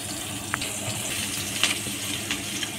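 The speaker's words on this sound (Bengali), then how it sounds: "সব কয়টা আমি জল দিয়ে গুলে নেব" Water is poured into a bowl of turmeric, chili, Kashmiri chili, coriander and cumin powders and mixed into a paste, giving a steady close trickle and splash with a few light clinks.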